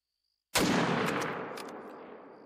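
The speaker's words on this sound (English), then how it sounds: "We're going to try to take a shot on him really far out in the dark." A single loud rifle shot is fired at a lesser kudu at night in the hunting game theHunter: Call of the Wild. It cracks sharply after a moment of silence, then fades into a long rolling echo.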